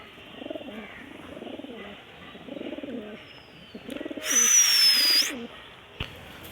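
Homa and racer pigeons coo in a loft, several soft, rhythmic cooing phrases repeating near the microphone, with a brief sharper bird sound partway through.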